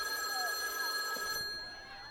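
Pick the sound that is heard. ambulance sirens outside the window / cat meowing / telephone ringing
telephone ringing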